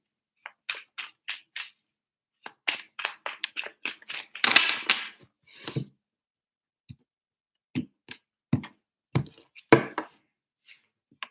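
Tarot cards being shuffled by hand in short, crisp bursts of flicking and tapping, with pauses between shuffles, close and fairly quiet.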